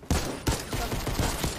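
Rapid Fortnite gunshots pop in quick succession, about five sharp close reports spread over a second and a half.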